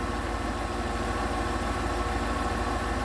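A 1997 Ford E-150 Econoline van with a 5.4L engine idles steadily nearby, a low rhythmic rumble with a constant mechanical hum and no voices.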